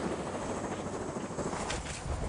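A rescue helicopter flying over a mountain trail race, a steady, continuous rotor and engine drone that fills the clip at moderate loudness with no voices.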